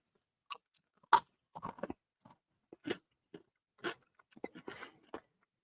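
Close-up, dry crunching as someone chews very crunchy potato sticks, with a series of sharp separate bites and chews spaced irregularly against near silence; no talking.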